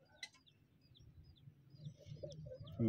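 A bird, apparently a blind-eyed fowl or pet bird, gives a few soft, faint clucking and chirping calls over low background rumble, with a louder burst near the end.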